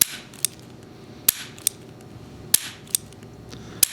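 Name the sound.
revolver trigger pulled and hammer cocked, cylinder indexing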